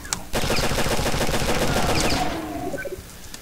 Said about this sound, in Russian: И еще один автомат. Это стреляет барстом.